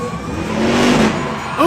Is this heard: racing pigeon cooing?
no